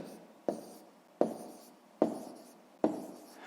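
A pen writes numbers on paper by hand, in four short scratchy bursts at a steady rhythm, each starting with a sharp tap and fading out, close and quiet with no talking.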